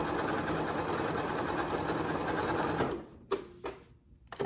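A Janome Memory Craft MC9450 sewing machine stitches lettering, a dense steady whirring for about three seconds, then it stops, leaving a couple of short clicks and quiet.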